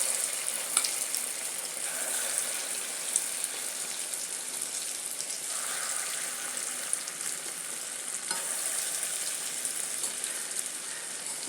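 Spiced vada frying in hot oil, a steady bright sizzle and crackle close by with occasional bubbling pops, continuous and without talk.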